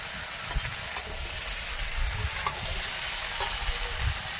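Carrot, green banana and eggplant fry together in a pan for shukto, giving a dense continuous sizzle close by, punctuated by several light scraping stir strokes.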